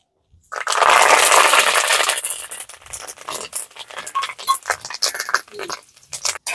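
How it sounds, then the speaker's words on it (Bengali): Curry leaves, washed and drained but still damp, hit hot oil for frying: a loud burst of hissing spatter, then a run of irregular crackles and pops that taper off, close by. "কারি পাতাগুলো তেলে দেওয়ার পরপরই ছিটতে থাকে।"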